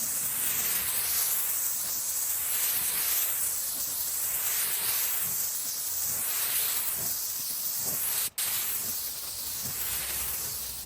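A spray gun lays a first coat of paint on custom bodywork at home, a steady loud hiss that pulses gently with each pass and stops for a split second before resuming.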